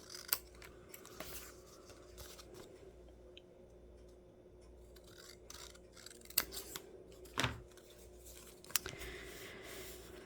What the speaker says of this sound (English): I am going to trim this one up just a hair.